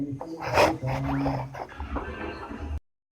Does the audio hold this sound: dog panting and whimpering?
yes